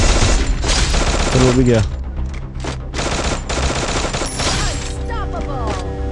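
Bursts of automatic gunfire in the battle game Free Fire Max rattle loudly and closely, with brief pauses between volleys, while someone talks excitedly over the shooting.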